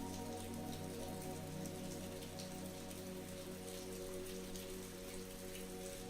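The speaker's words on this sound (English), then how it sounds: "As the rain continued to pour outside their makeshift shelter, Michael began his story." Steady rain pours down outside a makeshift shelter by a lake, a dense, continuous patter on surfaces that stays even and close throughout, with no voices.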